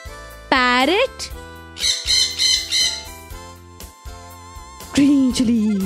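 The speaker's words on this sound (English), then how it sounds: "Parrot." A parrot gives sharp, harsh squawks, one loud rising call at the start and another toward the end, with a patter of bright chirpy notes in between over background music.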